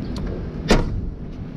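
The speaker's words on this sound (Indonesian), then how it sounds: "Sekarang kita tutup pintu bagasinya." Tailgate of a 2017 Datsun Go+ Panca T Active swung shut, giving a single solid thump near the middle of an otherwise quiet stretch with faint background hum.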